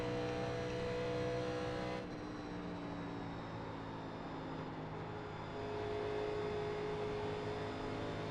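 A 1987 NASCAR race car in the iRacing simulator at Michigan, its engine holding a steady, sustained roar with a slight dip in pitch midway before it climbs again, heard alone with no talk.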